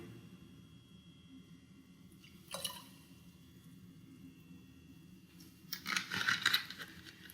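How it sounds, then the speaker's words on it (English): One capful of Sprite is poured into a container of alkaline water, giving a brief trickle and splash with faint drips against a quiet background, ending in a louder fizzing splash near the end. "I'm gonna take the Sprite and pour just 1 cap of Sprite in here."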